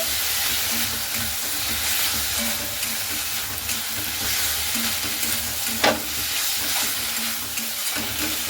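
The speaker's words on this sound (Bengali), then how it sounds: "টক দইটাকে দিয়ে খুব সুন্দর করে একটু ভালো মতো করে নাড়াচাড়া করে নিচ্ছি" Potatoes with spices and yogurt stirred in a hot pan, a continuous loud sizzle broken by scraping strokes and an occasional sharper clack of the spoon.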